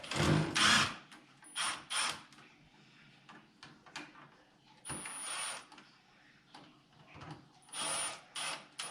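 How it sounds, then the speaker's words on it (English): Cordless power drill backing screws partly out of outlet boxes during a skid house build, several short whirring bursts separated by pauses, fairly faint, with light handling clatter between them. "I'm going to back these screws out a little bit."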